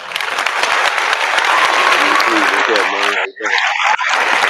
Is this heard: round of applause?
yes